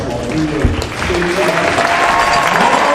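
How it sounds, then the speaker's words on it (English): Applause in a school gym for a state champion boys' basketball team at a community celebration, a dense burst of clapping from a crowd filling the whole moment, with some talk mixed in. "if we could have one more round of applause for our MTCO boys"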